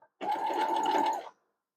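A sewing machine stitches a Jacob's Ladder quilt piece, running in one steady, close burst of rapid needle clatter for just over a second, then stopping.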